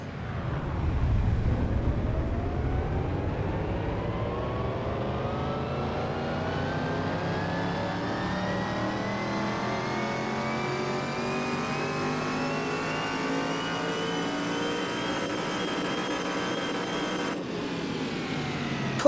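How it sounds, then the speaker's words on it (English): A rat rod engine revs hard on a dyno in Car Mechanic Simulator 2021, the loud, sustained engine note climbing steadily in pitch for nearly twenty seconds with no talking. "let's put it on the dyno again"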